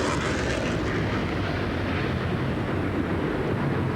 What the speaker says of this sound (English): This is Captain Ken Switzer in Blue Angel 5, and this is a high performance, maximum performance, minimum radius afterburner turn